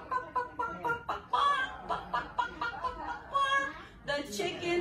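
During a toddler storytime, a voice imitates a chicken with a quick run of rhythmic clucks, followed by a few higher squawk-like calls, close and fairly loud.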